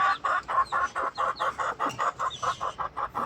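A laying hen clucks in a steady, rhythmic series of about a dozen short, close calls, with no other sound around them.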